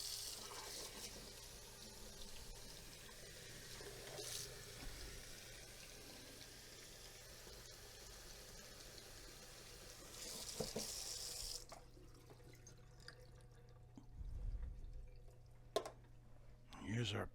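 Tap water runs steadily into a sink while a gold button is rinsed, a soft continuous hiss that cuts off near the end, followed by faint handling clatter, quiet and close.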